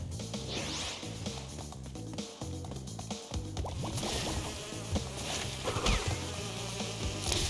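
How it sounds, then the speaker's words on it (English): Bees buzz loudly and continuously in Crash Bandicoot 2, a droning swarm over the game's music and effects. "Fucking bees."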